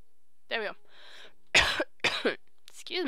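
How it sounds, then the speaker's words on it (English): A person coughs several times in quick succession from a tickle in the throat, close and loud, with short vocal sounds between the bursts. "I got the cough, the tickle in my throat."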